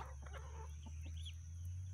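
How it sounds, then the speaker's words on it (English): Backyard homestead chickens give a few soft clucks and murmurs, faint and somewhat distant over a steady low hum, with no talking. "The other chickens don't seem to be giving them any problems."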